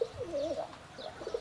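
Cooing of Giribaj pigeons, a male and a female, with a soft rolling coo that rises and falls through the clip, close and clear, with no talking.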